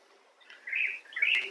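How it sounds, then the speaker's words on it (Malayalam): Forest birds chirp in short bright bursts, two louder calls rising out of a quiet, still background, fairly close and alone with no voices. "മൊത്തം കിളികളെ ശബ്ദങ്ങളാണ്."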